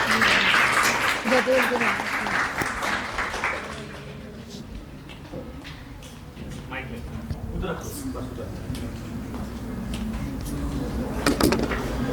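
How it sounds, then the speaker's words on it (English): Applause from an audience at a staged presentation event, loud at first, then tapering into scattered claps and crowd murmur, with a brief swell of clapping near the end. "Give a big round of applause, please."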